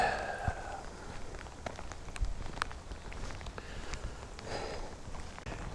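Steady rain falling among big pine trees at a busy campground on a late-April weekend, a soft continuous patter with scattered drops and light footsteps nearby.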